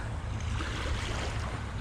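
Choppy sea water around a small island in stormy weather, a steady dense wash of waves and wind rumble filling the whole moment, close and unbroken, with no voices.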